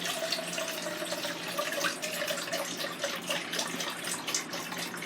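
Three cups of liquid stream steadily into a cooking pot, a continuous close gurgling pour with no talking over it.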